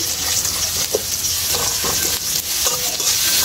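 Tomato pieces being stir-fried until browned for a Bengali rupchanda fish curry, a steady loud sizzle running throughout with scraping stirs of a spatula every second or so.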